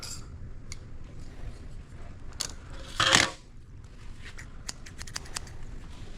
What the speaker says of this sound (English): Take these scissors and round it a little bit.